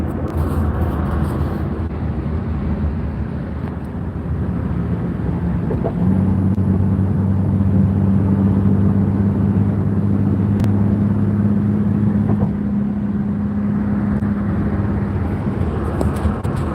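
Interior of a Duster car on the move, with a steady low engine drone and road rumble throughout, a deeper tone settling in partway through as the engine holds a constant pace, no talking.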